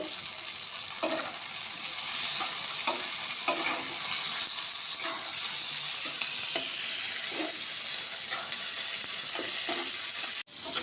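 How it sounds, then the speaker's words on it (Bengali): Two tomatoes fry in a pan, a bright, even sizzle running throughout with soft periodic stirring scrapes, ending in an abrupt brief cut, with no speech. "এখানে 2টা টমেটো নিচ্ছি, এখন টমেটোটা একটু ভেজে নেব"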